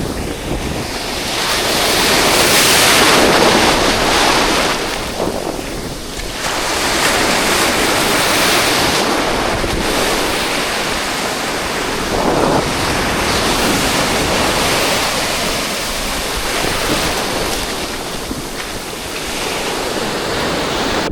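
Ocean waves break and surge loudly onto a beach in repeated swelling washes, with heavy wind buffeting the microphone throughout and no voices.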